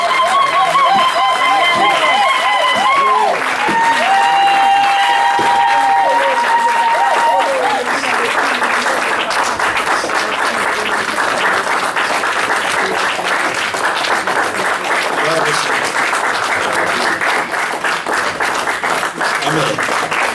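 A church congregation claps and acclaims the Lord in sustained, dense applause mixed with voices, after a stretch of singing at the start.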